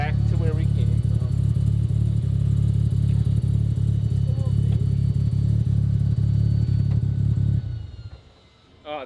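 Several rotary-engine cars idle and rev together in a loud, steady low rumble with sharp throttle blips, running continuously for about seven seconds before cutting off abruptly; people talk faintly underneath.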